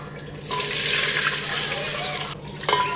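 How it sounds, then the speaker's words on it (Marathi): Water pours in a steady, close rush for about two seconds, splashing into a pot of soybean dum biryani before cutting off. "एवढं सगळं घातल्यानंतर आपल्याला घालायचं आहे पाणी"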